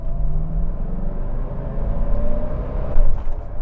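A 1988 Mercedes-Benz 560 SEL, a W126 sedan, pulls away from a stop with a low, steady engine rumble that rises gently as it accelerates, heard close from inside the car.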